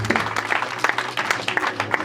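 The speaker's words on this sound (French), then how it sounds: "On acclame très fort le Seigneur" A congregation at a French-speaking church service claps and cheers in a dense, continuous wash of applause, moderately loud, with a low steady hum running underneath.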